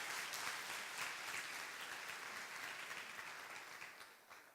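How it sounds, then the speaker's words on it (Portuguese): Congregation in a church service claps warmly and steadily, a broad crowd applause that holds strong and then slowly tapers off toward the end. "esse povo quer dar a você uma forte e calorosa salva de palmas"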